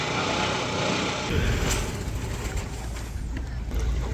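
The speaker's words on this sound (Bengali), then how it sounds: "এই যে ট্রলারগুলো এটা বড় ট্রলার দিয়ে আসলে মাছ টানে" Fishing trawlers run their engines on the Pashur River near the Sundarbans, a continuous buzzing motor drone close by with a broad watery wash beneath it, plus faint talk.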